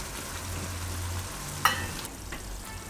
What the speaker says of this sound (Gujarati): હવે આપણે એમાં નાખી દઉં મલાઈ.